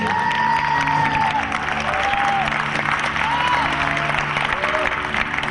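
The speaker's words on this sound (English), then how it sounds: "Let's give them all a big round of applause, please." Loud crowd applause mixed with cheering and whoops, continuous dense clapping, while a sustained tone and rising-falling voices carry over the top throughout.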